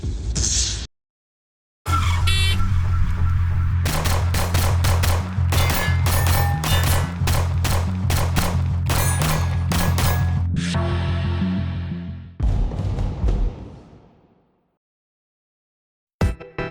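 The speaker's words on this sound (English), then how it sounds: "let's take a closer look at how it really shoots." A Taurus G2C pistol fires in a rapid string of sharp, loud shots, each ringing briefly before the next. The volley runs over several seconds, then thins to a few scattered shots and a final pop after a pause.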